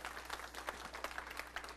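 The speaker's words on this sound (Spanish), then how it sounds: "Dale un aplauso a Jesús en esta mañana." A church congregation applauds during a Spanish-language sermon, a faint, steady patter of many hands clapping at a distance, continuous through the short stretch.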